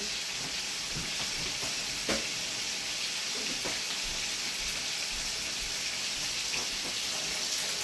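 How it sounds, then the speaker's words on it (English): Chicken breast frying in a pan in a home kitchen, giving a steady, close hiss and crackle that runs the whole time with a few sharper pops and no talk. "we'll let this fry up"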